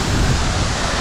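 Spray and falling water at Tiger Fall near Chakrata, Uttarakhand, a continuous broad hiss and rumble mixed with buffeting wind noise on the microphone, loud and close.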